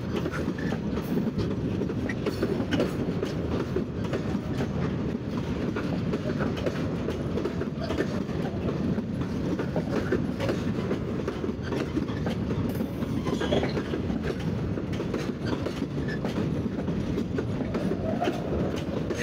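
A Bangladeshi freight train from Khulna, hauling many wagons, rolls along the tracks while switching lines. Its wheels make a loud, continuous rumble and clatter, with rhythmic clicks over the rail joints and a brief squeal partway through.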